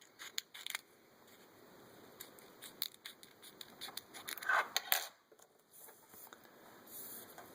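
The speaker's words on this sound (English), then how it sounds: "You can cut these with scissors quite easily." Scissors snipping through a thin Jamberry nail wrap sheet at close range, a series of small crisp cuts and clicks with quiet pauses between.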